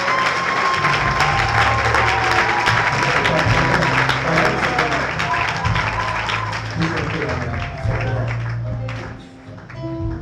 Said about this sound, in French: Est-ce qu'on peut donner l'acclamation au Seigneur?